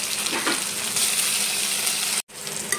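Onion, curry leaves and a small green chilli fry in a pan for soya rajma masala, giving a steady, close, loud sizzle that cuts off briefly near the end.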